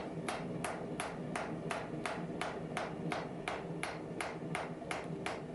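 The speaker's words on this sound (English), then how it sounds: "I move the steel and just keep hammering in one spot" A hammer striking steel while forging a san mai knife, about fifteen sharp metallic blows in an even, steady rhythm, close and loud, with no talk.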